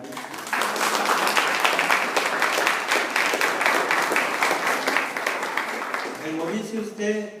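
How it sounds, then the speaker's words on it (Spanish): Congregation applauding at a church service, a dense, steady wash of clapping from many hands that holds for about six seconds, then thins out as a voice begins speaking over the fading claps. "Un aplauso para Gaby"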